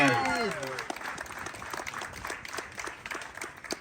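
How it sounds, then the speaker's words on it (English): An audience at an anniversary celebration gives a round of applause, scattered moderate clapping from a modest crowd following a brief voice at the start, thinning and uneven toward the end. "Round of applause."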